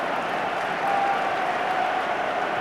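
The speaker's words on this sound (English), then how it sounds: "The crowd rising to England's performance." Rugby union crowd at an England versus New Zealand match applauding England, a steady broad wash of clapping and crowd noise at even loudness throughout, with a faint tonal hum over it.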